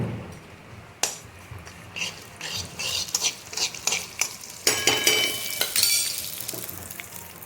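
Cumin seeds crackle and sizzle in hot oil, with scattered pops and a utensil scraping the pan now and then, growing busier toward the end.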